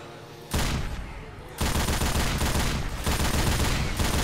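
Sustained rapid automatic fire from a mounted gun in Left 4 Dead 2, loud and dense, starting after a brief lull and running continuously with short bursts blending together.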